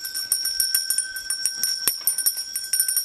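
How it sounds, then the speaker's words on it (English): A hand bell rings in rapid, repeated shakes, bright metallic peals tumbling over one another for a few seconds, close and clear with nothing else beneath. "I feel like I need to ring a bell for that"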